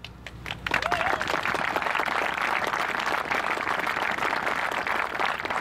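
Audience applause at an obstacle course dedication ceremony, a dense, sustained wash of clapping from a crowd that starts abruptly and continues steadily.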